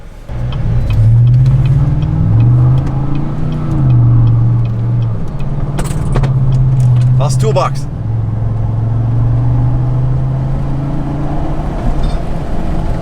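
A GM gas pickup truck fitted with an aftermarket exhaust idles and revs in a deep, low-toned drone that rises and falls in several swells, close by, with people talking over it.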